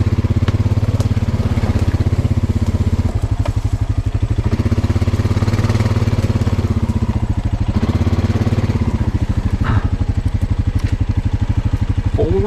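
A four-wheeler ATV engine runs steadily while riding through brush, a loud, close, chugging mid-pitched drone with clattering over it throughout.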